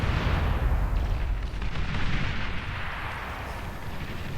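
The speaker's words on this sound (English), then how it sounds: "here comes the bombing run" Bombing-run explosions in a 5v5 video game match on the Feast of Hades map roll together as a continuous, heavy rumble of booms that fades slightly toward the end.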